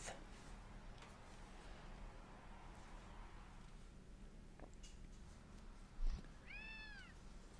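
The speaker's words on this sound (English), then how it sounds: "Is that my cat?" A cat meowing in the video game Gravity Rush Remastered; a single clear, drawn-out meow near the end after quiet game ambience and a soft thump.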